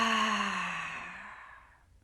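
A long deep exhale during a guided yoga flow, a single breathy rush that starts strong and tapers off steadily over about two seconds, close and alone with no talking.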